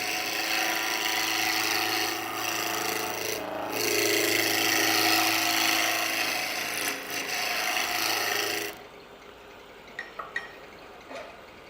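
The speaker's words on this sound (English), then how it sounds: "This roughing gouge, I mean, its whole job is to do this, so it's pretty good at it." A roughing gouge cuts a spinning wooden lidded box on a lathe, giving a loud, steady rasping hiss for about nine seconds, then stops, leaving the quieter motor hum and a few faint taps.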